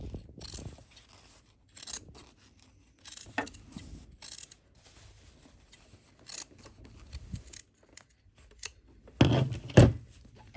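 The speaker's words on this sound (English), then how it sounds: "Okay, so we're actually going to trim this seam allowance down." Scissors trim a fabric seam allowance while sewing a garment, with several short crisp snips close by, separated by quiet pauses and light handling rustle.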